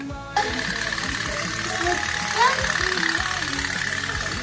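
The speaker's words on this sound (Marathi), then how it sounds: "जहाज पुढे जात असताना गमतीशीर असा पोप पोप पोप आवाज करते" A toy pop-pop boat moves through water, giving a steady, close putt-putt chugging that runs continuously under a busy, noisy background.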